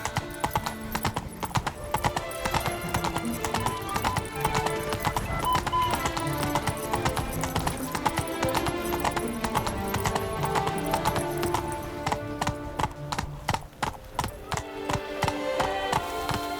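A horse in The Witcher 3 gallops hard with dense, rhythmic clip-clop hoofbeats up close, joined by an occasional whinny and busy game ambience and music throughout.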